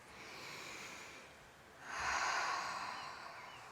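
Deep breath taken while holding a yoga squat with hands at the heart: a soft, airy intake followed by a louder, fuller rush of breath near the end, close and alone with no talking.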